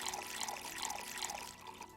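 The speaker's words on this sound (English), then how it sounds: "some of these I'm just gonna pour out on the ground" Liquid splashes and trickles steadily for about two seconds as drinks are poured out onto the ground in the VA-11 HALL-A bar game, close and fairly quiet.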